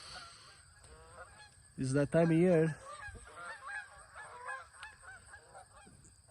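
Geese on a farm let out a loud burst of several close honks, followed by softer scattered calls while a person speaks quietly over them.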